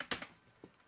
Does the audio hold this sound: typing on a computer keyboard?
yes